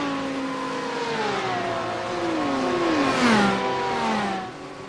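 Porsche GT3 race cars in a sim racing game, their engines howling loudly at high revs and sweeping up and down through gear changes as several cars run close together, with no talk.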